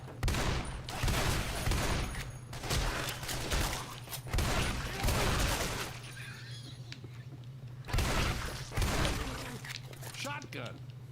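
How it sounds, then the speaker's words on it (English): Shotgun fire in the zombie shooter Left 4 Dead 2, heard as repeated loud blasts in several bursts, mixed with game noise and a player talking over it. "Shotgun."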